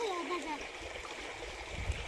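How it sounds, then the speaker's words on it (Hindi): River water splashing and rushing during a cold-weather swim in a hill-region river, with a steady flowing wash and a few splashes toward the end, under a voice talking faintly at the start. "छींटे मत डाल। अरे छींटे मत डाल"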